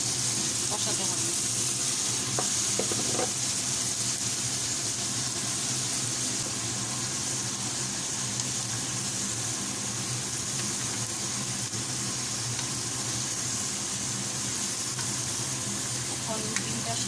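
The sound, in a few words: stir-frying bottle gourd with egg in a pan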